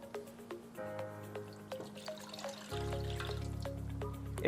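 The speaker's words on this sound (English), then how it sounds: "I'm going to pour in 1 liter of water." About one liter of water pours into a 16-inch Presto non-stick electric skillet, model 06852, with a splashing, filling stream whose tone shifts as the pan fills. It plays alone and close, with no talk.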